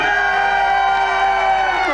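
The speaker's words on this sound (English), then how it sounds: "keep that round of applause going" An audience aboard a cruise ship cheers loudly, sustained whoops and shouts blending into a continuous roar that carries through the whole short moment.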